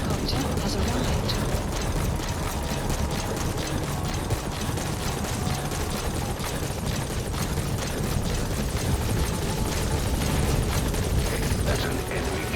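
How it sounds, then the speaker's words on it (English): In the video game Metal Gear Solid V, a support helicopter arrives at the landing zone. Dense, steady rotor chop and engine roar fill the whole stretch, loud and close, with faint radio voices underneath. "Support helicopter has arrived."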